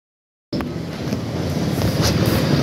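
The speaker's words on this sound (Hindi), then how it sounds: "बहुत ही ठंडी हवा चलने लगी है" Wind gusts buffet the microphone after a moment of silence, a steady, rough rushing that builds slightly louder and continues without pause.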